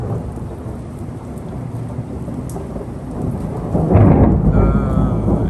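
Thunderstorm over the Al-Fajr district of Hail, Saudi Arabia: heavy rain hisses steadily while thunder rumbles low, swelling into a loud, close roll near the end, with no talking.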